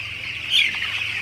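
Twelve-day-old broiler chicks crowding to drink water, a steady chorus of high, close peeping with one louder chirp rising above it partway through, and no speech.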